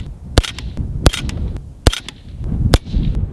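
Suppressed Ruger Mini 14 rifle fires four evenly spaced shots at a target, each a sharp, clipped crack, close and fairly loud, with quiet outdoor ambience between them.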